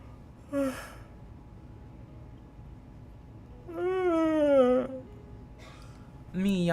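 A drawn-out, moaning yawn in a sleepy voice, rising and falling for about a second, with shorter breathy vocal sounds before and after it against quiet room tone.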